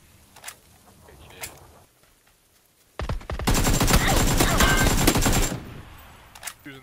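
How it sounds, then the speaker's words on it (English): A long, loud burst of rapid automatic gunfire in a video game, lasting a couple of seconds after a quiet stretch with faint scattered sounds, with a few distant shots before and after. "Yeah, shot him in the head."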